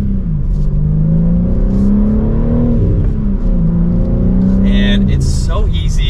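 A manual 2023 BMW M3 accelerates hard from second gear, its engine note rising loudly and steadily inside the cabin before a brief shift, with a voice talking over it.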